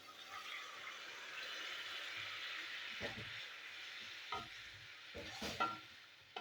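Boiled peas and potatoes tip into a pan of cooked-down spice paste for ghugni, giving a steady mid-level sizzle with a few sharp clunks and scrapes of stirring near the end.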